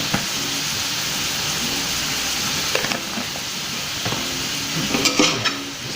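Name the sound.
ground lamb with spices frying and being stirred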